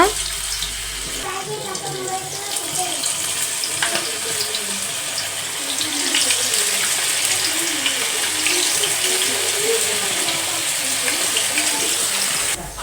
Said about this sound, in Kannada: ಎಣ್ಣೆ ಒಳಗೆ ಹಾಕಿ ಕರೆದು ಬಿಡೋಣ